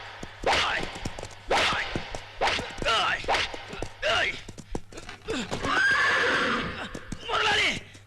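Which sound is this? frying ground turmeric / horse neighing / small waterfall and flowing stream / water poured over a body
horse neighing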